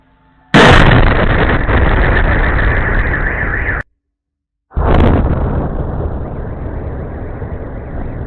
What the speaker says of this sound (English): Debris explosions, just take a look right now.